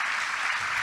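A church congregation claps in praise during a Spanish-language sermon, a dense, steady wash of applause filling the short moment without pause.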